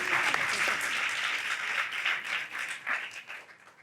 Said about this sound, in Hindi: अंकल जी के लिए तालियां बजाएं।